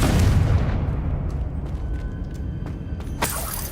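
A Confringo fire-blast spell goes off in the wizarding game Hogwarts Legacy, a loud low boom that rumbles and slowly fades over several seconds, with a sharper crackling burst near the end.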